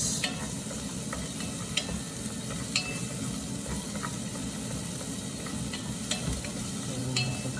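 Onions sizzling in hot butter in a pan, a dense, continuous frying hiss with occasional light scrapes and clicks of stirring, close and steady throughout.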